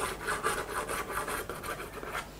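Pastel stick rubbed across very fine sandpaper in a steady series of short, close, scratchy rasping strokes, quiet and alone without talk.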